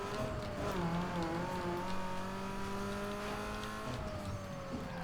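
A modified Mazda Miata races in NFS Underground 2, its engine note climbing steadily through the gears with bright harmonic whine, a brief gear-change dip near the start and another shift near the end, loud and continuous.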